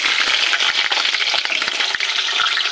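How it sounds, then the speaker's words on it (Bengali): Potatoes fry in hot oil in a wok, a loud, steady, crackling sizzle with dense popping throughout and no voices. "আলুগুলো লাল লাল করে ভেজে নেব"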